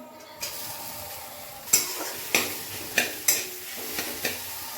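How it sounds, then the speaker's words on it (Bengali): Potatoes frying in a pan with curry leaves, a steady sizzle broken by several sharp scraping clacks of a spoon stirring against the metal, close and alone without voices. "এটা ভাজা কমপ্লিট, এরপর আলুটা দিয়ে দিচ্ছি।"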